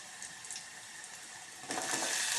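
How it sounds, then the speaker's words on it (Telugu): Carrots get washed under a running kitchen tap, a soft steady splashing that swells louder near the end, with no voices. "క్యారెట్ కొంచెం శుభ్రంగా కడుక్కొని"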